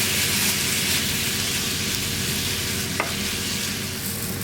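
Food stir-frying in a pan, a steady dense sizzle throughout with one brief clink, close and fairly loud.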